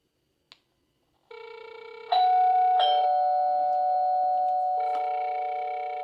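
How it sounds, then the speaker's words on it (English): A click, then a loud electronic video doorbell chime rings out in sustained tones, a second note joining and ringing on as it slowly fades. "let's also just press the ring button just so you guys can hear how it sounds"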